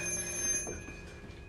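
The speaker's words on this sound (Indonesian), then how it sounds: "telepon hitam kembali berdering mengagetkan Vinny" A black telephone rings in a film, a close electronic tone sustained for about a second before it fades, alone with no talking.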